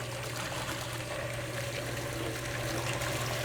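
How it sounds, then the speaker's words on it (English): Tap water runs steadily into a kitchen sink being filled with soapy water, a continuous even trickle and splash at close range with no talking. "we want to start a sink of soapy water"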